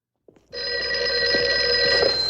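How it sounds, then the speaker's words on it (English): A car telephone in the 1968 film The Love Bug rings loudly and alone, starting after a short click and sustaining a steady, bright electric bell tone. "Like, it is a phone in a car."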